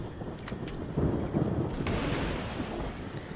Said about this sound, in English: I don't like thunderstorms in this game.